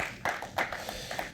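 Short scattered applause from a small conference audience at a startup banking panel, a few claps bursting at the start and thinning out over a second, moderately close with room tone.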